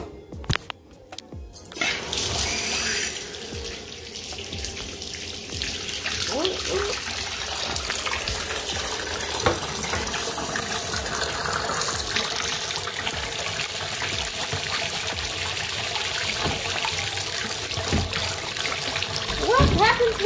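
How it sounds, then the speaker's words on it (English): A tap runs into a bathtub as it fills, a steady close rush of water with faint splashing that carries on throughout while people talk over it. "let me run the bathy"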